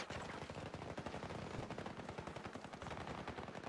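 Rapid automatic gunfire from the shooter game Battlefield 2042, a dense, continuous rattle of loud shots lasting throughout with no pauses.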